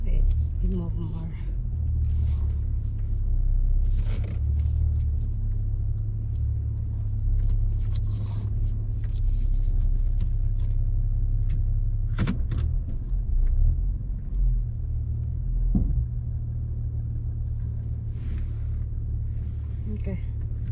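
A steady low engine of an automatic car idling during a driving road test, rumbling close and constant, with a few faint thumps and bits of movement over it.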